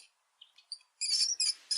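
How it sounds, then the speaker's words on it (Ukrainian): High, thin squeaks come in short bursts, a few faint ones first, then louder, denser chirping squeals close by. "це, напевно, мишка пищить"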